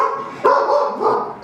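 A dog gives a couple of short, close barks with a whiny edge, one sharp yap followed by a softer second bark.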